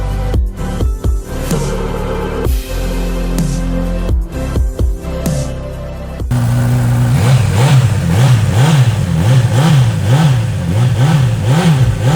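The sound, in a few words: Honda CB1000R Plus motorcycle engine revving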